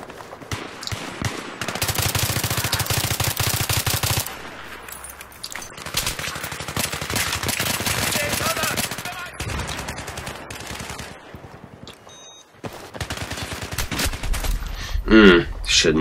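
M5K submachine gun fire in Battlefield 3, long rapid full-auto bursts with short pauses between them, loud and close, with other game sounds in the gaps.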